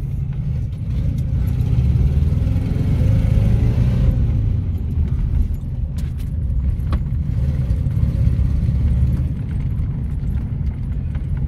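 ZAZ-968M car engine droning and revving while driving, a steady low rumble with rattling and jingling cabin noise on top, close and continuous without talk.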